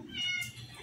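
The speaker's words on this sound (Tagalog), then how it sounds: "Oh, alika ang pusa." A pet cat meows during bath time, a short close cry with a voice talking in the background.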